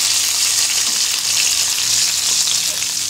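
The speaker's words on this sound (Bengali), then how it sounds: "খুব বেশিক্ষণ ফ্রাই করবো না, খুব লাল লাল হয়ে গেলে আবার ভালো লাগবে না" Momos pan frying in oil, with a loud, steady hiss and crackle that carries on without a break.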